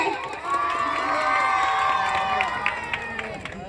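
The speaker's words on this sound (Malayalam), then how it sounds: "നല്ലൊരു കയ്യടി കൊടുത്തേ" A crowd of fans in Palakkad cheers, shouts and claps to welcome Gabri and Jasmin, a loud, dense wall of voices and applause that holds steady for a few seconds.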